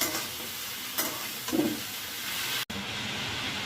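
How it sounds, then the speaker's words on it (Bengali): Ridge gourd being stir-fried with onion and chopped tomato in a pan, a steady close sizzle with a few scraping stirs and a brief louder clatter midway. "আমি এতে অ্যাড করছি ঝিঙেগুলো দিয়ে এবার আমি ভালো করে পেঁয়াজের সাথে মিশিয়ে নিচ্ছি।"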